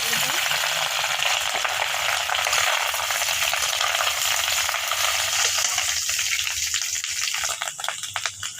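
Boiled beef lung fries in a pan with turmeric and salt, producing a loud, steady sizzle with stirring scrapes that turns choppier and fades near the end.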